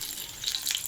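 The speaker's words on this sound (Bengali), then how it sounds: "ভাজাটা হচ্ছে" Trotters fry in a pan, giving a steady, fairly quiet hiss of sizzling oil with light crackles and no voices.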